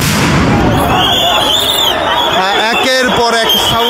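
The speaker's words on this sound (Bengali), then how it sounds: "একের পর এক সাউন্ড গ্রেনেড কিন্তু আসলে" Police sound grenades exploding one after another at a protest where BUET students march toward Jamuna, with loud bursts over a dense, noisy crowd.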